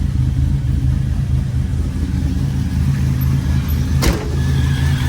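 A 1987 Buick Grand National with a 3.8 turbocharged V6 idling steadily, a loud, close, low rumbling drone that holds even throughout with one brief sharp click near the end.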